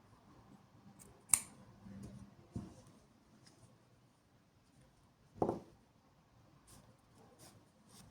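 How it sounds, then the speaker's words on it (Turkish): Scissors snip crochet yarn with a couple of quick, faint cuts, followed by light handling rustles in a quiet room. "Burada da ipimi kesiyorum."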